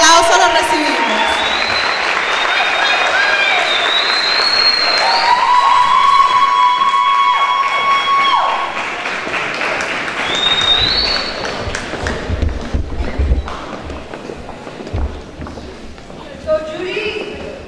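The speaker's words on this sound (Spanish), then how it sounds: "Con un fuerte aplauso lo recibimos." An audience at a spring fine arts performance applauds performers being introduced, loud sustained clapping and some cheering that swells and then thins over the second half, with tonal music lines and voices mixed in.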